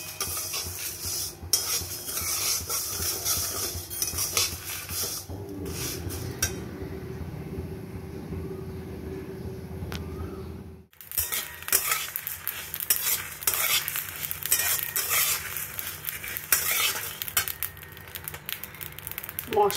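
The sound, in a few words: spices and dried chillies stirred and fried in a wok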